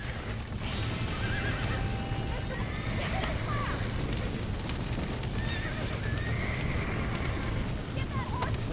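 Horses whinny and neigh repeatedly over steady galloping hoofbeats in a Red Dead Redemption ranch scene, the calls rising above a dense rumble of hooves, with voices talking throughout.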